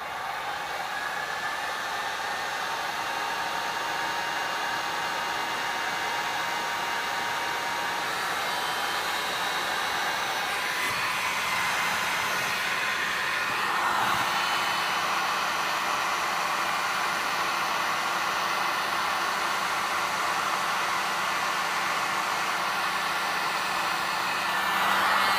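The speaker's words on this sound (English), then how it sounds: "use a heat gun to shrink that tubing" A heat gun blows a steady, even roar of hot air while shrinking heat shrink tubing over an N-type connector on LMR-400 coax. The whoosh stays close and constant for the whole stretch, with only slight shifts in tone and no voices.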